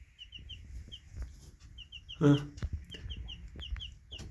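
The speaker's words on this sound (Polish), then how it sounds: "A patrzcie, tutaj kurczaki wyglądają." Repeated high, thin chirps from chicks peep in quick runs throughout, with one brief louder burst of hen clucking partway through.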